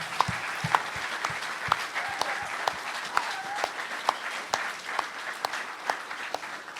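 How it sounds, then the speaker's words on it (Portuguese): Audience applause at a live event session, a scattered round of claps with distinct individual hand strikes standing out against a steady wash, moderately loud and fairly close, with a few faint voices underneath. "Mãe, eu acho que merece uma salva de palmas até."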